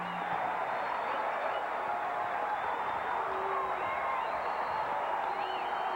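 A basketball home crowd at Southwest Missouri State roars on its feet after a three-point make, a loud steady wash of cheering and whoops that holds throughout, with faint distant voices mixed in.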